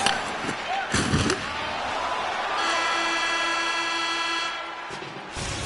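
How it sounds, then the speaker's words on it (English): An end-of-period horn sounds in an NHL 26 hockey video game, Calgary Flames against San Jose Sharks. A sustained, droning horn blast runs for a few seconds over a steady arena crowd roar, after some sharp thuds. "there's the horn, and that means 2 periods down"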